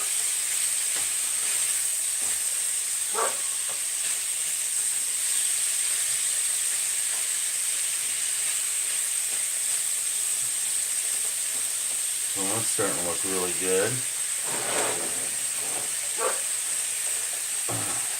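Ground meat sizzles and fries steadily in a pan on a gas stove, a constant hiss with scraping and stirring clatters near the end, while a person speaks briefly.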